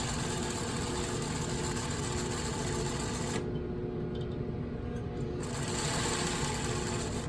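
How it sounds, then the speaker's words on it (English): A sewing machine stitches front and back darts in fabric, a steady close mechanical whir running the whole time, briefly changing pitch midway as it backstitches before resuming at full speed. "And I just backstitched 2 stitches,"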